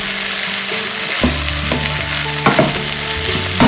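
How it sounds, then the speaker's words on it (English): A spoon stirs onion powder into black rice mince frying in a pan, making a loud, close sizzle with repeated scraping strokes and a few sharper clacks, and no speech. "Get that stirred in."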